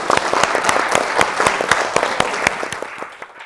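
Audience applause at a panel event at the International African American Museum, steady dense clapping from a crowd that carries evenly for a few seconds before thinning out.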